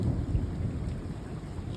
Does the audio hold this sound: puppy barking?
no